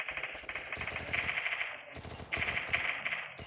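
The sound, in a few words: gunfire in video game Free Fire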